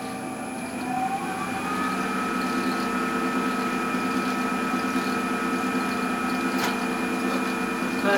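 A Myford CL4 metal lathe turning steadily at 840 RPM, a continuous mechanical hum with whining tonal lines and faint gear chatter, close and even throughout.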